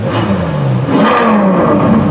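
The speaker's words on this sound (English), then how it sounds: "That lovely V12 sound." A Ferrari 812 Superfast's V12 engine, already warmed up, revs steadily and loudly close by. The throaty roar rises and falls in pitch, with no talking over it.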